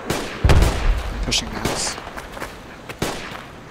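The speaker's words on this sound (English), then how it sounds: "I'm just firing that out to the house" Gunfire in the military shooter Project Reality, several sharp reports and short bursts at varying distances, some loud and near, others fainter, with a voice talking over them.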